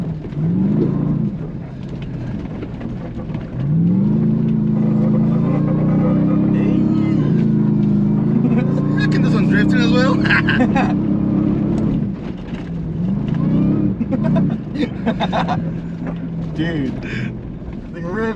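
A stock 2024 Ford F-150 Raptor R truck engine holds a loud, deep revving drone that swells and eases across the drive, with wind rush and occasional voices from inside the cab.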